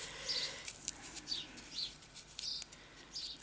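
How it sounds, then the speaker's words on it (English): Small birds chirp outside, with short high tweets repeating at uneven intervals, faint and distant over a quiet background. "these little birds are going again today"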